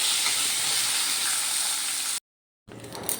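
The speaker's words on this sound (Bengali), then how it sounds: "ভালো করে আলুগুলো এবার আমি লাল লাল করে ভেজে নেব।" Potatoes deep-frying in oil in a kadai, a steady dense sizzle that runs loud and unbroken, then cuts off briefly before a rougher burst of frying returns.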